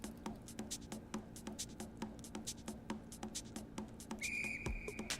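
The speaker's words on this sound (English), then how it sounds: "Not that, that's a whistle." A sustained whistle note rises over the steady plucked, rhythmic backing music in the Stardew Valley game, entering near the end and holding clearly above the beat.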